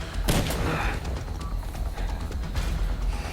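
Bursts of gunfire from the floor above in the video game Dead Rising, a rapid fusillade of shots with a booming low end over a dense, continuous game background.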